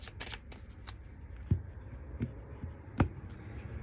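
A deck of chakra cards is shuffled by hand, with a soft continuous riffling and a few sharper slaps as the cards settle, close and moderately quiet.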